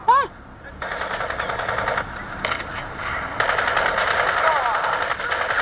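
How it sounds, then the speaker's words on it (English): Rapid bursts of gunfire in the PC shooter Crysis, rattling automatic fire in stretches over a constant game background, with a brief chirping effect at the start and no voices. "I'll go ahead and try and shoot people."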